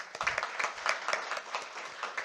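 Applause from a seminar audience welcoming the chief guest at a GST summit for chartered accountants, a fairly faint, scattered clapping with distinct individual claps throughout.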